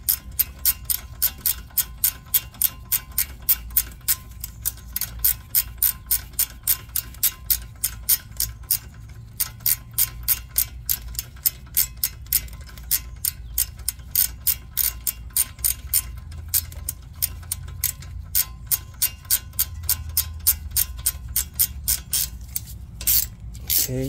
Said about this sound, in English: Put your hand in the middle of it, and it ratchets it back and comes forward